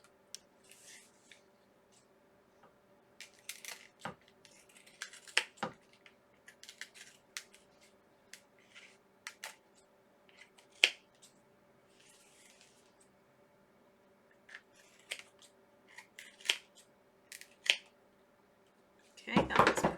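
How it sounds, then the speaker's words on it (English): Overhanging leather edges are trimmed away in a series of sharp, scattered snips and cuts, quiet between the strokes, with light handling clatter and a louder rustle at the end. "now I'm just going to trim up where my leather might be hanging over the edge a little"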